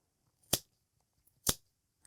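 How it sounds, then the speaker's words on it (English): Sharp scissors snip through scrap yarn on a pom-pom maker, two crisp cuts about a second apart, close and clear with near silence between them. "you're going to turn your pom-pom maker over and cut along the other side"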